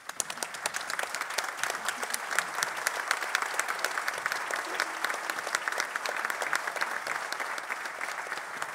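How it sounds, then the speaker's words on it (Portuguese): Sustained, dense applause from a large crowd at a carnival performance, loud and even throughout, many hands clapping together without pause. "Uma salva de palmas."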